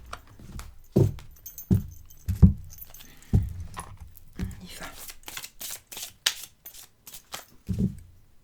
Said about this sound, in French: allez, j'arrête de couper mes cartes